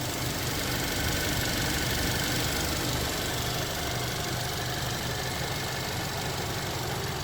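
A 2019 Hyundai i30 N Line with a 1.4-litre turbo petrol engine idles steadily, a smooth, quiet, continuous hum at an even level throughout, with no talking.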